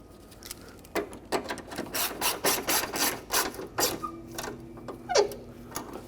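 Mounting nuts on a 1998-2005 Lexus GS300 AC condenser are tightened with a ratchet, giving a run of quick, close, rhythmic clicking strokes in bursts over a quiet background.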